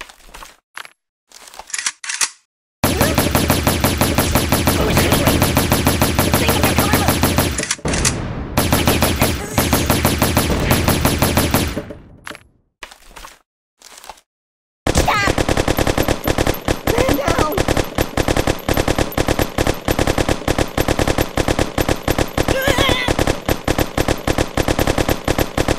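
Sustained machine gun fire in the mobile game Kick The Buddy, long loud rapid rattling bursts separated by brief pauses, with a faster, denser stretch near the end.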